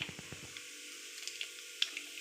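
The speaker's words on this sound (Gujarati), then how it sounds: "આપણું તેલ ગરમ થઈ ગયું છે. હવે એમાં નાખીશું રાઈ," Mustard seeds and cumin crackle in hot oil, a faint, quiet sizzle with scattered small pops.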